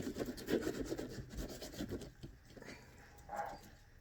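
A knife scraping scales off a fish during cleaning, a steady run of rough, rasping strokes up close for about two seconds, then quieter, scattered scrapes and handling noises.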